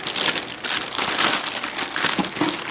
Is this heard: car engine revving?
no